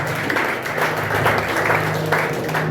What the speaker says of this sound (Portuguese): Dá um aplauso para Jesus.